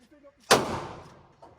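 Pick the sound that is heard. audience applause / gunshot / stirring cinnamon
gunshot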